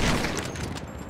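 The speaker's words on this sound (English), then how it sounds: "Shots being fired." A short, dense volley of video game gunshots, loud and close, crackling in quick succession across a brief burst with no clear pause.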